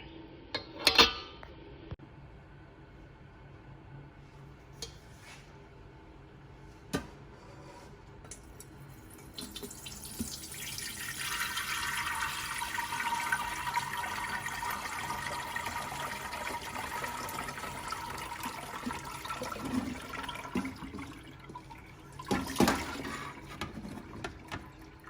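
Jamaican sorrel drink steeped with ginger and cloves pours through a strainer, a steady liquid splash building midway and running for several seconds, with a few clinks and knocks before and after.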